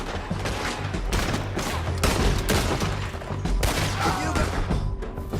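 Dense gunfire in the Western video game Red Dead Redemption 2, rapid overlapping shots and booming reports in a loud, sustained fusillade with little pause.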